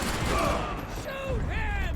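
Gunfire in the shooter game Max Payne 3: a dense volley of shots and rattling mechanisms over a loud, busy game soundscape, with a voice shouting over the gunfire.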